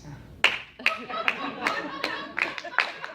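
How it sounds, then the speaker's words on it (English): Audience members clap in a sparse round of applause, about eight distinct claps in an uneven rhythm from a few hands in a room, with a faint voice underneath. "Just by a round of applause"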